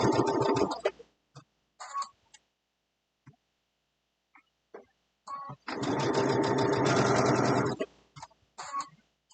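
A sewing machine runs a short locking stitch along the edge of fabric for an Easter basket: a few quick whirring bursts and clicks, then one sustained run of stitching and a couple of brief taps to finish.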